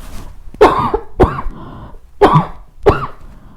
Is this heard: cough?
yes